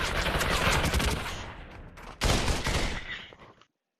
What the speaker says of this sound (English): Just because I shot you, you have to shoot me?